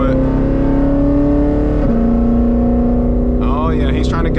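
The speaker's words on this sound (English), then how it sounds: "Exhaust open up, traction control off, and manual mode." Shelby GT500 in track mode with exhaust open and traction control off, engine droning loud and steady from inside the car, pitch dipping briefly before rising again under acceleration.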